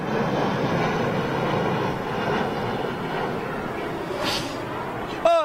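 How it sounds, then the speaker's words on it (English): A Swiss Airlines jetliner flying inbound makes a steady broad roar that holds nearly level throughout, close and loud. A brief tonal chirp is heard near the end. "Looks like a little Star Alliance jetliner inbound."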